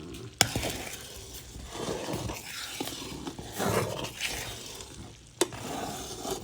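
Carom seeds (ajwain) roast over very low heat in a pan while being stirred, giving a close, soft crackling sizzle with scraping strokes and two sharp clicks of utensil against metal.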